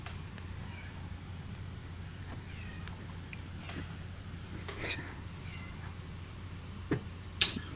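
A cat yowls faintly in the background of a quiet indoor room, giving a few drawn-out meows spread over several seconds, with soft clicks and a couple of sharper taps near the end.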